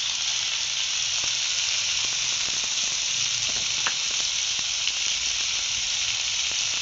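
Mixed winter vegetables fry in a pan with a steady, loud sizzling hiss, dotted with small scattered pops and crackles throughout, with no voices.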